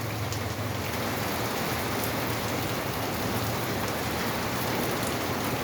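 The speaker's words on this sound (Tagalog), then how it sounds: "Ang lakas ng ulan." Heavy rain pours down outdoors in a dense, constant hiss of drops drumming on surfaces, loud and unbroken throughout.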